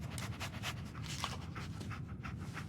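The dog Dogmeat in the video game Fallout 4 pants in quick, steady breaths, soft and continuous over a low ambient rumble.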